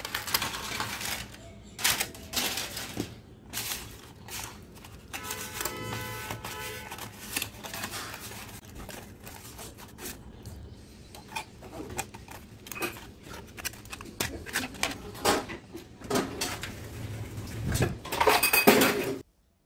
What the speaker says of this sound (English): at first I will make an aluminium tray with the aluminium foil